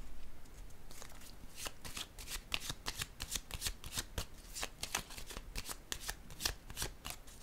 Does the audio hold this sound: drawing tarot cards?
yes